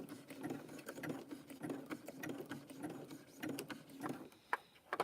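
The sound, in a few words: sewing machine stitching a braid onto a tea cup rim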